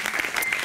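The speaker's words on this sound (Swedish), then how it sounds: "En applåd för Åse Eriksson som är med oss här ikväll" Brief burst of audience applause at the Storytel Awards gala, a soft, even patter of many hands heard at moderate distance for under a second.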